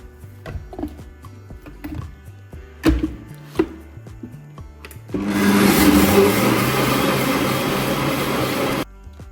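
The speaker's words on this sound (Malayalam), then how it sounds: "അപ്പോൾ ഇതാ ഇഡ്ഡലീൻ്റെ മാവ് അരക്കാൻ" A wet grinder grinding idli batter starts up after a few clatters and knocks, then runs with a loud, steady whirring grind for several seconds before stopping.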